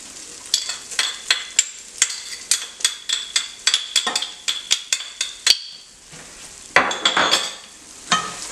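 Spoon stirring chili flakes and curry powder in a pot for khao soi, giving repeated close scraping clinks in a steady rhythm, with a short pause before another burst of stirring.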